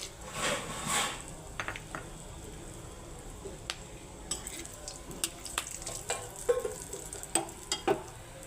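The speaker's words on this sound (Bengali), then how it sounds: "তেল গরম হয়ে গেছে এখন ফোড়নে দিচ্ছি এলাচ থেতো করা আর হচ্ছে দারচিনি" Whole spices, crushed cardamom, cinnamon, cloves, broken star anise and bay leaves, tempering in hot oil in a pan for mutton curry: a steady soft sizzle with scattered crackles and pops, near and alone.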